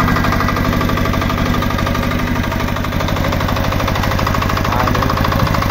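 A Kirloskar power weeder engine runs nearby, a loud, steady, rapid mechanical chug and rattle that holds constant throughout without pause.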